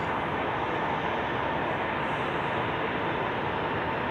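A Lufthansa airliner arriving from Munich at Zurich Airport in winter, heard as a steady, broad jet roar that holds evenly throughout with no talk over it.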